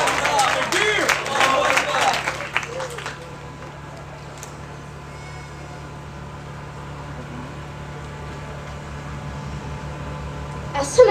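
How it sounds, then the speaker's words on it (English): An audience at a 2023 graduation ceremony breaks into loud, dense clapping for about three seconds. The applause then fades into a quiet, hushed room with a low steady hum. "Please give a round of applause to Rua Rahman."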